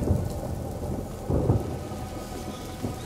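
Steady rain pours in A Plague Tale: Innocence while low thunder rumbles roll in twice, loud and full, with no voices over the storm.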